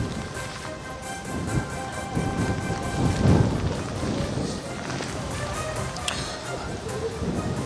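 Heavy rain pours during Cyclone Fengal in Pondicherry, a dense, steady hiss of downpour with a low thunder rumble swelling in the middle and then settling back under the rain.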